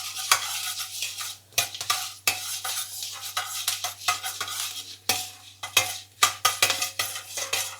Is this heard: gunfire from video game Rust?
no